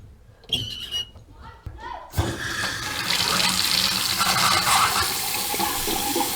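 Running water gushes steadily from a newly installed bathroom faucet into the sink, a broad continuous rush that starts abruptly after a few soft clicks and handling sounds and stays loud and close throughout.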